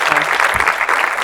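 Audience at an animation awards night clapping together, a short burst of dense, close applause with faint voices mixed in.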